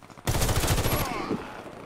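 Rapid automatic gunfire in a shooter video game, a loud close burst of about a second that starts abruptly, then fades into a fainter tail.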